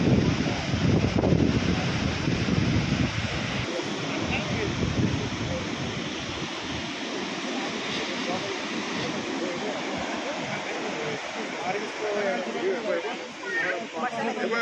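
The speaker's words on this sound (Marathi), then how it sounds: "हा मोठा धबधबा आहे." Thoseghar waterfall roaring in the background, a steady broad wash of falling water filling the scene throughout, with people talking and chattering nearby over it.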